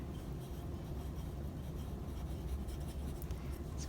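Pen or marker scratching steadily across a surface while a math problem is written out, a soft continuous rubbing with no talking.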